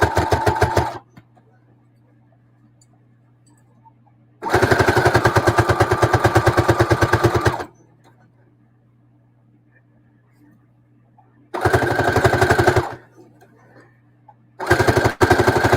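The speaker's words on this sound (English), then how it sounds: "I'm stitching the open edge closed now." A sewing machine stitches the open edge of a thicker keyfob closed, running in loud, rapid rhythmic bursts separated by silent pauses, with a low steady motor hum beneath.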